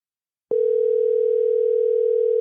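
A telephone line gives a loud, steady, unbroken dial tone that starts abruptly after a moment of silence and holds without change.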